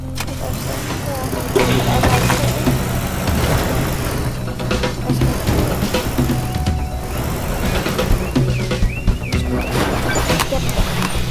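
A car engine idles and revs in Teardown, a steady mid-pitched motor rumble held up close across the whole stretch, mixed with busy game clatter.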